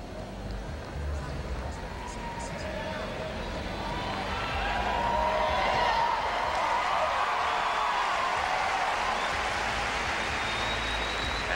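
An arena crowd at a men's gymnastics team final cheers and applauds, a broad roar of clapping and shouts swelling and holding steady under a commentator's voice.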